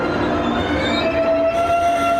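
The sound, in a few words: train departing Daejeon station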